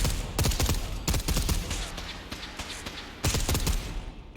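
FN FAL rifle firing in the Fallout 4 video game, a series of sharp, loud shots in quick clusters with brief pauses between bursts.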